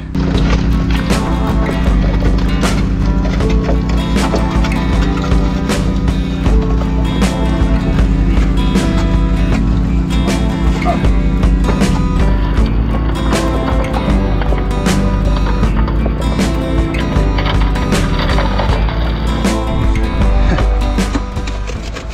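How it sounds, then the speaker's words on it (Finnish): Gold prospecting machine running outdoors, a steady loud engine drone with a continuous low hum and scattered knocks and rattles throughout, no talk over it. "pistetään tuolla Ville repasee koneen käyntiin"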